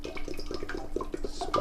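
Cooking oil glugs out of a one-litre bottle into a pan for frying chicken, a close, bubbly run of quick liquid gulps and drips in an uneven rhythm.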